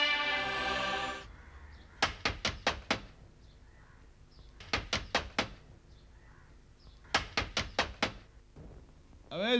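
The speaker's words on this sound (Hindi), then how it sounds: "अबे जगना, दरवाजा खोल" Three clusters of rapid knocks on a door, each a burst of four or five sharp raps, separated by pauses, close and fairly loud after a brief opening noise.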